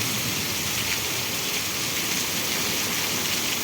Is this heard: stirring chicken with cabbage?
no